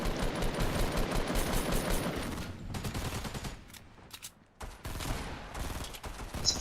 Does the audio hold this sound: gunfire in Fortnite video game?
yes